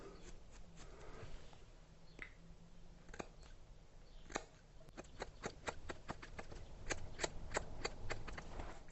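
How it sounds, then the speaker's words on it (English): Scissors snipping through beard hair over a sink, a steady run of close, crisp cuts that speed into a quick rhythmic series toward the end, alone with no talking. "I prefer using a scissor to cut my beard as opposed to using a clipper"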